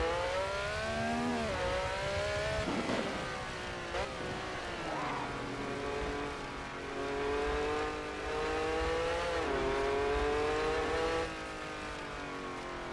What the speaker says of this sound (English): And to be able to hear these engines from this position.